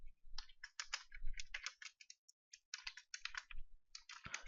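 Fast bursts of typing on a computer keyboard while entering Python code, crisp close clicks in quick irregular runs separated by brief pauses, with a louder key strike at the end and no talking.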